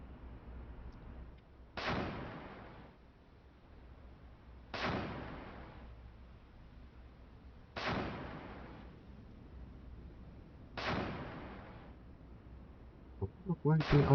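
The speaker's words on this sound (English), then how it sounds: "think we're almost ready to shoot the cannon." Naval deck cannon in the Cold Waters submarine game firing four evenly spaced booming shots, each a sharp loud blast with a decaying tail, over a low background hum.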